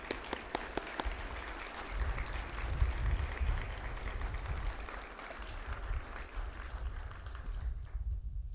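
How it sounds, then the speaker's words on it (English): Outdoors at a softball and baseball field dedication, a crowd claps for honored parents, starting with a few crisp close claps, then a soft, distant wash of applause over low wind rumble. "Could I ask all of us for a round of applause for these parents?"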